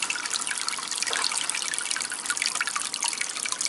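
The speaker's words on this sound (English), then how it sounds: "Look at that water flow. Now that's some clean water flow from the filtration." Water flows from the filtration pump into a newly set up aquarium tank, a close, steady trickling and splashing that continues unbroken with no talking.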